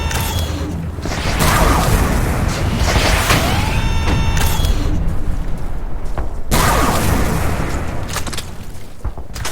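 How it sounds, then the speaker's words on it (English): Gunfire rattles in the video game Renegade X, heavy booming shots and mechanical clanks overlapping in dense, loud bursts with brief gaps, set against constant battlefield noise. "Yeah, this gun does a lot of damage."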